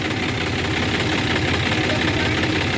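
A JCB 3DX backhoe's diesel engine idles close by with a steady, loud rumble and faint knocking throughout, no talk over it.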